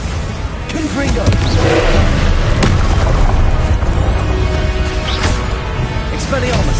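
Confringo blasting curse explosions in Hogwarts Legacy, loud booming blasts and whooshing spell effects layered over dense game sounds, with a voice speaking over them.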